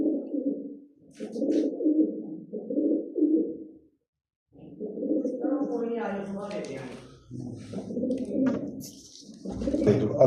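Pigeons cooing in repeated low, throaty phrases with brief pauses, close and fairly loud, with a voice speaking over the later part.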